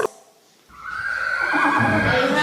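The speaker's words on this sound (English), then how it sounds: "And number 10, horse." A horse neighs once in a loud, close, sustained whinny that rises after a brief quiet start and holds to the end, presented in an English lesson on domestic animal sounds.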